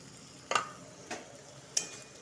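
Tuna frying in a pan gives a faint, quiet background sizzle broken by three short, sharp scraping stirs spaced about half a second apart.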